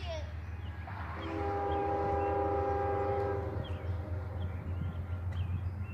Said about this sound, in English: It's a different K5HL horn.